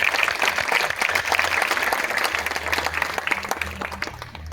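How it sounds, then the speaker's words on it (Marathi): A school gathering applauds its teachers with a sustained round of dense, lively clapping from many hands that holds steady for several seconds, over a faint low hum. "सर्वांसाठी खूप मोठा जोरदार टाळी होऊन जाऊ द्या"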